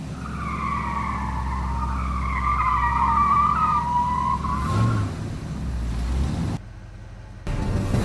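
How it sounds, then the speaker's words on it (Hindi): A car breaking down with strange noises, heard as a loud wavering squeal-like whine over low engine rumble for about five seconds, then a brief silence before the rumble returns. "अचानक गाड़ी से कुछ अजीब आवाजें आने लगी और गाड़ी रुक गई।"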